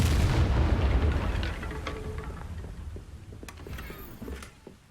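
A Confringo fire spell in Hogwarts Legacy bursts into a heavy, booming explosion that rumbles loudly and then decays over a few seconds, with scattered crackles and debris clicks trailing off.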